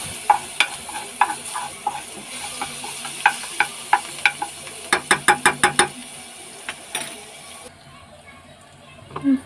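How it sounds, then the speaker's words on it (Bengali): Garlic paste and nigella seeds frying in oil in a pan, with a steady sizzle broken by a rapid series of sharp spatula knocks and scrapes against the pan, then quieter frying and a final clack. "রসুন ভাজা হয়ে গেছে"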